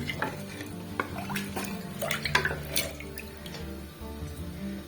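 A spoon stirs spices into moong and masoor dal in a pot, giving soft wet sloshing and scraping at close range, fairly quiet with a faint low hum underneath.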